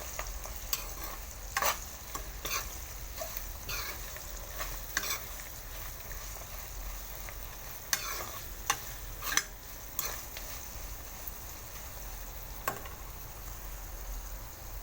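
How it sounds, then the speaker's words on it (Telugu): Gongura leaves with chilli and garlic fry in oil as they are stirred, a soft continuous sizzle with recurring spatula scrapes and taps against the pan at an irregular pace. "గోంగూర వేసేసుకొని మళ్ళీ ఒకసారి కలుపుకుందాం."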